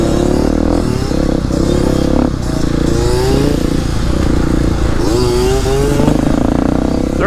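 A DT125 dirt bike engine runs loud and close throughout, its two-stroke buzz rising and falling in repeated revs with some rattling clatter.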